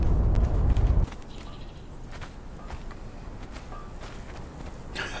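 A horse walking in the Conan Exiles video game, soft hoof clip-clops under a steady ambient game background, following a loud rumbling burst in the opening second.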